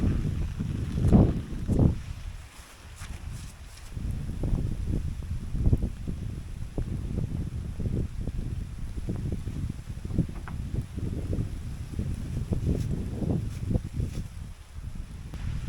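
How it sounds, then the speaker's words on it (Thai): Strong wind roars and buffets the microphone in uneven gusts on a mountaintop during a rainstorm, with rustling underneath and no voices. "ฝนตกลมแรงตลอดเวลานะครับ"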